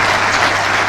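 Loud, dense audience applause at an official government event, a steady wash of many hands clapping with no break.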